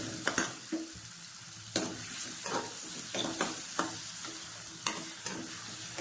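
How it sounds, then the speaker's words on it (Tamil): A paste of pepper, cumin and coconut sautés in a pan for drumstick leaf kuzhambu, steady sizzling broken by repeated scrapes and clacks of a spatula stirring. "இப்போ இதெல்லாம் நல்லா பச்சை வாசனை போக நல்லா வதங்கணும்"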